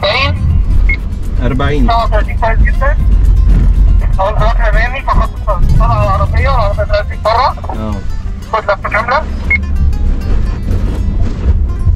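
A Nissan Qashqai drives through an understeer handling test on slippery ground, its engine and road noise rumbling steadily beneath near-continuous talk from a man in the cabin.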